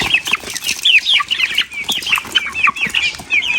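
Chickens and a rooster at close range cluck and cackle in quick, overlapping bursts, loud and continuous with no voices.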